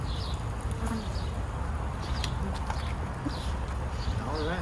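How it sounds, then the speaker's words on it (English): Steady insect buzzing from many honeybees in a nucleus colony box fills the clip, with a constant droning hum and occasional closer passes over a dense outdoor background. "Bees active and busy."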